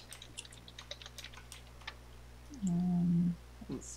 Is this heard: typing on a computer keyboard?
yes